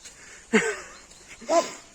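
A small dog barks twice outdoors in a forest, two short close yelps about a second apart over quiet background.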